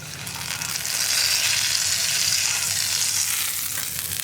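Hot fried-onion tempering poured into a plantain-peel and green gram curry, making a loud, steady, close hiss of sizzling that lasts throughout with no talking.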